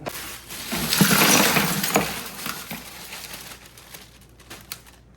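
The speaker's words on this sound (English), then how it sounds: "now we're gonna dump in our 5-pound bag of ice" A 5-pound bag of ice gets dumped into a turkey brine, a loud rattling crash of cubes that tumbles and clinks, then thins out into scattered knocks and splashes.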